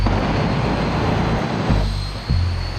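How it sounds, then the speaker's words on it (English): A jet turbine-powered Mazda RX-7 at a drag racing event gives a loud, sustained turbine roar with a steady high whine running throughout, the rumble briefly swelling and dipping near the end. "the crowd was treated to a demo from a jet turbine-powered RX-7."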